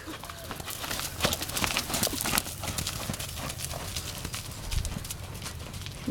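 A horse trots in a steady clip-clop rhythm during a flatwork riding session, its hooves thudding continuously at a moderate distance over a faint, noisy background.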